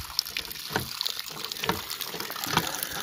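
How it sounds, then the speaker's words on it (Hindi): Water splashes and trickles from a village hand pump in the Cholistan desert, a close, irregular patter of running water with no voices. "ये भाईजान इसको थोड़ा सा चला के दिखाएं हमें नलके को, ये आप देख सकते हैं माशाल्लाह इसका साफ और शफाफ पानी"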